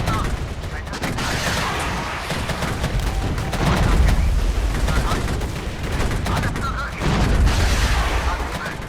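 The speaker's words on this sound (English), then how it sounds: "Let's do an artillery strike in the middle of that town." Artillery strike on a town in the PC strategy game Regiments: a continuous roar of rumbling explosions and crackling gunfire, with heavier booming swells around four and seven seconds, loud and dense throughout.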